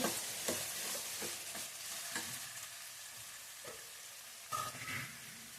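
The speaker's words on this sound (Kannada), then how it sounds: "ಈಗೇನು ಈರುಳ್ಳಿ ಫ್ರೈ ಆಗಬೇಕಲ್ಲ, ಸಣ್ಣ ಉರಿಗೆ" Onions fry over low heat for heralekai chitranna, a soft, steady sizzle punctuated by quiet scraping and stirring taps, with no voices.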